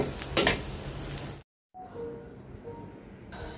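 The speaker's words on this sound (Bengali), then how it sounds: "অল্প একটু ধনিয়ার গুঁড়া দিয়ে দিলাম, একটু ভালো করে কষাই নিই।" Spices with coriander powder sizzle and are stirred in a pan for egg korma, a brief louder scrape and fry, a short pause, then a quieter, steady sizzle.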